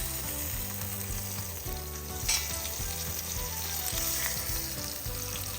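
Pork roast searing in a pan over a medium flame, giving a loud, continuous close sizzle and crackle with steady frying texture and a brief sharper spatter midway.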